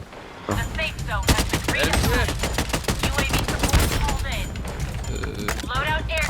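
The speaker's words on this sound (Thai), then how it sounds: "ได้ินเสียงปืนมาทางขวา" Rapid bursts of gunfire in the video game BloodStrike crack continuously, dense and loud, with a few quieter gaps; excited voices talk over the shooting.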